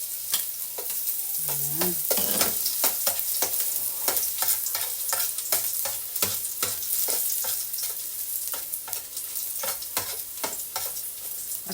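Minced garlic sizzles loudly in hot oil in a pan for arroz caldo, with steady frying crackle and repeated scraping stirs throughout; a voice speaks briefly near the start.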